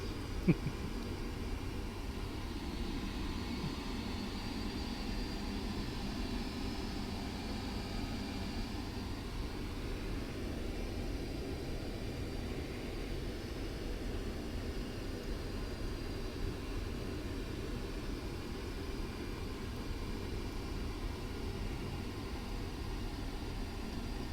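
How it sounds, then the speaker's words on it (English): Boeing 747-400 taxiing in the PMDG flight simulator, a quiet, even jet-engine rumble and hiss holding steady throughout with no talk. "Meanwhile, the 747 taxis to runway 3 left."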